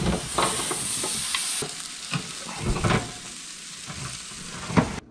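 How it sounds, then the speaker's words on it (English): A spoon stirs a thick corn mixture for corn ramen and scrapes the bottom of the pot, giving repeated close scraping strokes over a constant hissing simmer, with no talking. "you want to make sure that you are scraping the bottom every so often so it doesn't burn"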